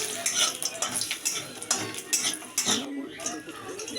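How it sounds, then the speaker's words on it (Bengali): Lentil dumplings (bori) fry in a pan, heard mostly as busy spoon scraping and metallic clinks against the pan with a light sizzle beneath, close and irregular. "দেখো আমি বড়িগুলো ভেজে নিচ্ছি"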